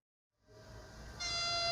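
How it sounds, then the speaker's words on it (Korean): A KTX high-speed train pulls into the platform at Gimje station, rising from silence into a steady mechanical hum that swells louder and brighter near the end. "KTX 열차가 김제역 플랫폼으로 들어섭니다."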